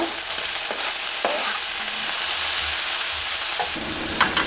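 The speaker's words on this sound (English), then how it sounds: "I'm just going to add the mushroom in there." Fresh mushrooms for vegan empanadas sizzle loudly in a pan, a dense crackling fry close by, broken by several scraping stirs and clinks of the utensil, with no talking.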